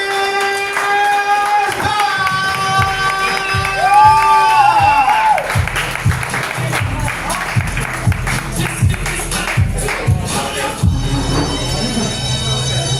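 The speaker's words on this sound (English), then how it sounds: "So please, clap it up, clap it up, clap it up" Comedy-club crowd at a pizzeria show clapping, whooping and cheering for a comedian, loud and sustained, with music and a voice over the start, then scattered claps and shouts trailing off.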